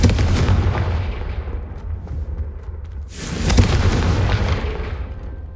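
Fiery Confringo spell blasts burst against candelabras in Hogwarts Legacy, booming explosions with a sustained roar, a fresh loud blast erupting midway and rumbling on to the end, no voices.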